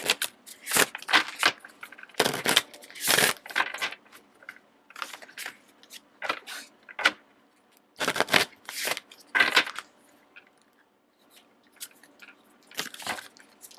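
Tarot cards being shuffled in a series of close, crisp riffling bursts separated by short pauses, with fainter card handling in between.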